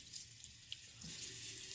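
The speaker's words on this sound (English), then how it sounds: "Put it under warm water." Warm water runs from a tap into a sink, a faint steady hiss that grows slightly louder partway through, with no voices.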